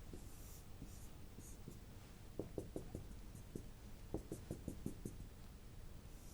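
A marker squeaks and taps as a waveform is drawn on a board in an electronics lecture on clippers. Quick stroke clusters come in two bursts over a faint room hiss. There is no speech.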